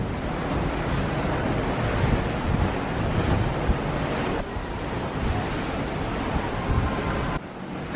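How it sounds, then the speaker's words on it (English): Ocean waves wash steadily beneath a cruise ship at sea, a continuous broad roar of surf mixed with gusting wind buffeting the microphone, loud and unbroken throughout with no talking. "Look at the ocean."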